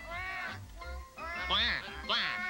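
Several loud, nasal duck quacks in quick succession, a few short calls followed by longer rising ones, close by with no talking.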